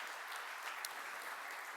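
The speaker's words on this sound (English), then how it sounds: "And by the way, another applause for Phil." Conference audience applauding in a hall, a steady wash of clapping that stays even and fairly faint throughout, with no voices on top.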